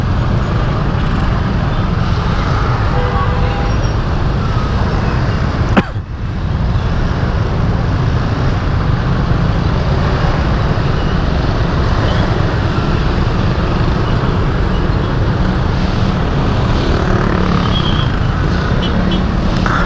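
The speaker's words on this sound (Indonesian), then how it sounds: "Wah, ini macet nih." Jammed traffic heard from a moving motorcycle, a loud continuous roadway roar of engines and tire noise with a wind rumble, and one sharp brief knock partway through.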